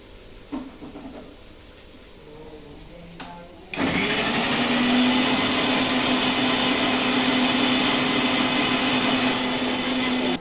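A kitchen mixer grinder blending tomato puree starts up after a few quiet seconds of faint handling noises, then roars loudly and steadily at close range with a sustained whining motor hum.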